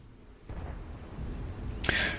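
A sharp, bright blast bursts out near the end over a low rumbling background, a single heavy shot that rings briefly from an FV215b (183) tank destroyer gun in World of Tanks.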